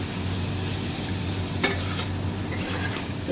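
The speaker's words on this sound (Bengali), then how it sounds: "এবার আমি মোটামুটি পাঁচ মিনিটের মতো কষিয়ে নেব" Tomato and spiced vegetables sautéing in a pan for dalia khichdi make a continuous close sizzle, with a couple of soft utensil scrapes against the pan.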